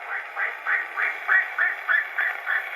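A voice imitates a duck, giving about nine evenly spaced nasal quacks in a steady rhythm, close and moderately loud.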